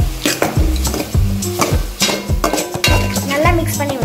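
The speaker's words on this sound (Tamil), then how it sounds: "நல்லா மிக்ஸ் பண்ணி விட்டுக்கலாம்." Lemon sevai with turmeric powder being stirred in a pan, loud, close spoon scrapes and clinks against the metal in a quick, steady rhythm with faint sizzling underneath.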